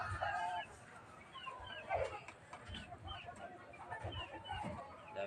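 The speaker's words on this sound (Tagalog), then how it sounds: "Dami manok dito mga guys." Several chickens cluck and squawk nearby in short, irregular bursts, with one louder outburst partway through, over a low rustling background.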